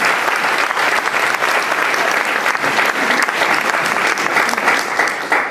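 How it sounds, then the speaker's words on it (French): An audience at a round-table event claps steadily and loudly throughout, dense applause with no break. "Je propose qu'on applaudisse Isabelle, Sylvie et Myriam."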